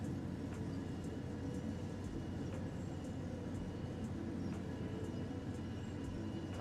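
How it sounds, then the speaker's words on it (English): Steady rumble from a coach and its engine in Train Sim World 4, a continuous low drone with faint periodic clicks of wheels over rail joints, heard alone without talk. "you just enjoy the sounds of the train"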